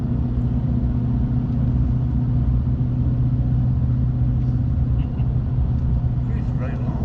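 An 800+ horsepower Ford Mustang engine drones steadily while driving, a low continuous rumble close by with no sharp revs, holding at a constant level throughout.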